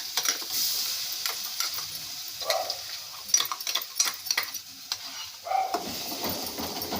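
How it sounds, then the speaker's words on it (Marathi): Ground masala paste roasting in hot oil for a Malvani tomato curry, with repeated scraping and stirring strokes over a soft sizzle, close and without talk. "वाटणला आपल्याला तेलात व्यवस्थित भाजून घ्यायचं आहे."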